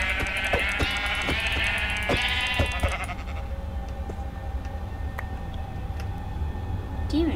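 Minecraft sheep bleating in a quick series of loud wavering calls, followed by quieter game ambience with faint clicks and a brief rising tone near the end.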